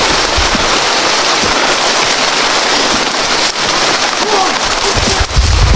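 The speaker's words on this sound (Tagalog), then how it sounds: "Yan tol, lumakas ng ulan." Heavy rain in a video game, a dense continuous patter of drops with scattered sharper cracks, loud and steady, with a voice briefly over it near the end.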